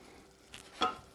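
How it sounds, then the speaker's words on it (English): Onions sweating in a pan over medium-low heat, a soft low sizzle with a couple of brief scraping stirs, the second louder and close. "I'm going to give this a stir, and this is going to sweat over medium-low heat"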